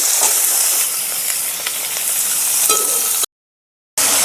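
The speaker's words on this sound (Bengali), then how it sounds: "চিকেনটা আমার একটু ভাজা হয়ে গেছে" Chicken mince sizzling with softened onions in a pan for chicken patties, a loud, close, continuous frying hiss with faint stirring scrapes, then a brief cut to silence before the sizzle returns.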